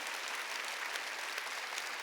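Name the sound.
church congregation applause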